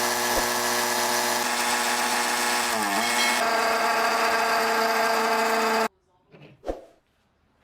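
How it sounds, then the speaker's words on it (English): A power drill bores into a Jeep frame during a Roadmaster baseplate install, whining loudly and steadily up close for several seconds before cutting off, followed by a few faint clunks. "That's the mark that I'm drilling"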